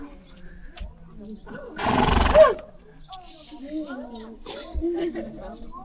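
A loud, breathy horse whinny bursts out once at close range, surrounded by people talking.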